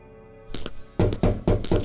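Loud, hollow knocks on a door in a horror survival video game, arriving as a quick pair followed by three heavy evenly spaced thumps, close and with no talk over them.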